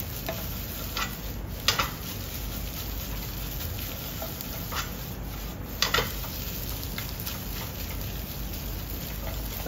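Fried rice sizzles steadily in a frying pan, with occasional louder scrapes and clacks of stirring against the pan.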